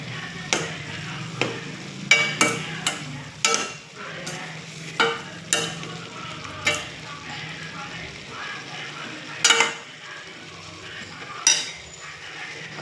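Spatula stirring ground green chili, cumin, coconut and onion into beans in a pan, with repeated distinct scraping and clanking strokes over a soft sizzle, irregularly spaced.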